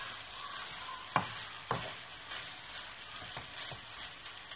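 Cooked pasta being gently stirred into a salmon sauce in a pan: a soft, low sizzle with a few light spoon knocks and quiet scraping movements throughout.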